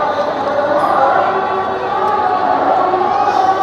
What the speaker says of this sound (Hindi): ये देख लीजिए, बहुत भीड़ है अभी यहाँ भी